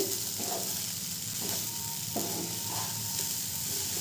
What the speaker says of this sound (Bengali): চাল আর ডাল খুব ভালো করে মশলার সাথে কষানো হয়ে গেছে